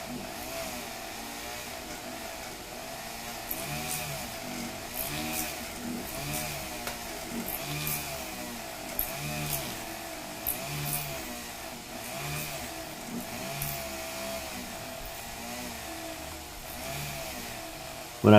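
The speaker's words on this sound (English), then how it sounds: "you can hear that rotary tool bog down a little bit" A rotary tool drills at close range, whirring steadily, its high pitch sagging in repeated dips as it strains under pressure.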